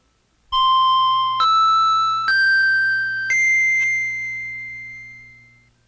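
Opening chimes for a hypnosis session for stress relief: four bright bell tones step upward in pitch, each ringing clearly alone, the last one sustaining and slowly fading.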